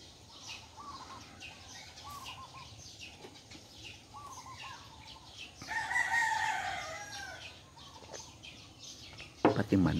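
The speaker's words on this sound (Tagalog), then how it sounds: "Pati manok." Rooster crowing at a small family home, a clear cock-a-doodle-doo near the middle that rises loud and close, with clucking hens and soft talk around it.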